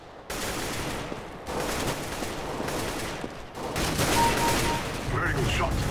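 Dense gunfire in a Counter-Strike: Global Offensive tournament match, with bursts of rapid shots and automatic fire in close succession and brief gaps between volleys over game noise.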